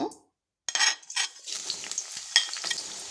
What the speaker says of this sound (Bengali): এখন আমি পেঁয়াজটা এই তেলের মধ্যে দিয়ে দেব।